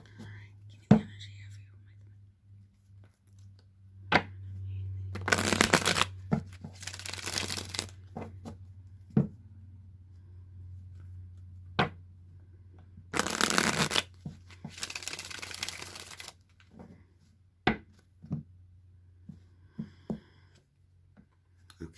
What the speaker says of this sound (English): Now I'm going to shuffle the Rider-Waite deck